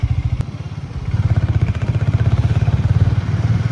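A Harley-Davidson X440T motorcycle accelerates, its engine note steady and close with a pulsing rhythm that grows louder partway through, with no talking.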